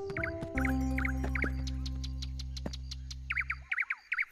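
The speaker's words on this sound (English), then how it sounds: "What lovely bird song." Repeated chirping bird song in a cartoon scene, clear and fairly close, a run of short tweets over a steady low hum that cuts off near the end, leaving the last few calls alone.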